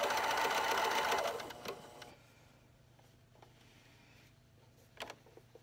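Sewing machine running a stretch stitch on knit fabric for a headband and sleep mask, a loud steady mechanical whir that winds down after about a second and a half, followed by quiet with a few faint clicks.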